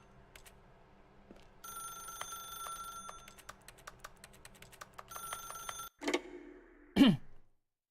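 An in-game telephone in The Stanley Parable rings in several bursts of bright metallic bell tones, with clicks and soft background ambience, and ends in a louder closing chime.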